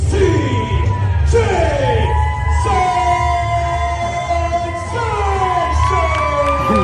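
A wrestling crowd cheers and whoops as a wrestler makes his entrance, with loud yells and shouts over a continuous roar and music-like tones running underneath.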